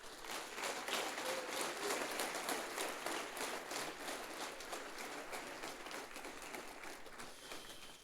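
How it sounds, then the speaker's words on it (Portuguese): A congregation applauds in church after an evening preaching session, making dense, steady clapping that runs unbroken throughout at moderate level, like a continuous patter. "Então aplauda ao Senhor,"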